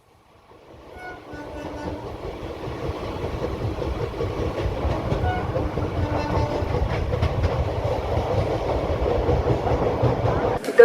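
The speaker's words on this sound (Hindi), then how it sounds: "दुर्ग रेलवे स्टेशन आपका स्वागत करता है" A train rolls through Durg railway station in India, a steady rumble building from near silence into a sustained rattle of wagons with brief tonal horn-like notes, loud and close, faint voices underneath.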